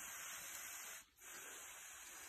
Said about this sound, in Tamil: எல்லாத்துக்கும் கொஞ்சம் தண்ணி விடுவோம்.